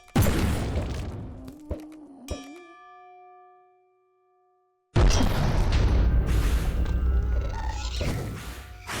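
Modded Minecraft turrets firing at the wither boss: a few sharp clanging shots and ringing dings, a brief silence, then a loud burst of dense crashing game noise.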